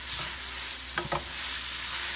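Beef and pork eggroll filling stirred around in a hot pan, a steady frying hiss with a couple of quick scraping knocks of the spoon near the middle, no voices.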